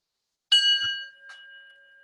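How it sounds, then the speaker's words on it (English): A single bell is struck once, ringing out clearly and then fading into a long, pure sustained tone, with a faint second touch shortly after. "you sound the bell like this"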